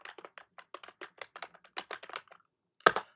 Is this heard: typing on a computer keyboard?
yes